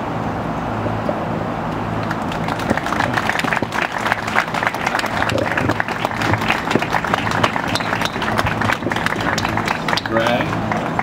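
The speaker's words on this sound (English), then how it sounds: "I think he deserves another round of applause" Sustained applause from a large wedding crowd, dense steady clapping at a loud, even level throughout, with some voices mixed in.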